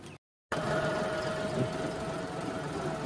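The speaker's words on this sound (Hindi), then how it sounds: "ये देखो अभी हमारा ट्रैक्टर, पापा ड्राइव करेंगे" A farm tractor engine runs with a steady mechanical hum and rattle after a brief cut, continuous and fairly close, with no talk over it.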